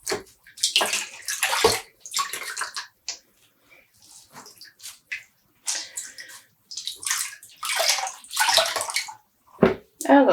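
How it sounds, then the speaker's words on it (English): Close, intermittent sloshing and trickling as water is gently squeezed from a second skein of home-dyed yarn, short wet bursts separated by brief pauses. "Squeezing out the water again without bringing or using force."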